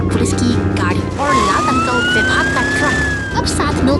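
A cartoon police car siren wails in a rising and falling sweep, heard alongside a fire truck, with music and other sounds underneath.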